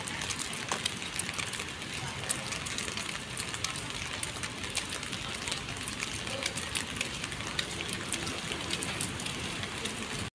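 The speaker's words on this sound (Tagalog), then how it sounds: "Medyo maulan kasi dito mga kapersa." Steady rain falls outdoors, a dense even patter of drops on surfaces that continues unbroken, fairly faint and with no voices.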